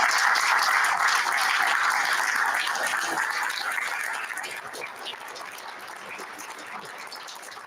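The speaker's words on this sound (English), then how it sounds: "can we give the Board of Education a round of applause?" Audience at a school board meeting for the Board of Education claps in sustained, dense applause that rings loudly at first and then tapers to a softer patter in the second half.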